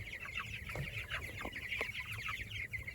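Young chickens in a chicken tractor cluck steadily at close range, a busy overlapping chorus of short calls and soft chatter, with no voices.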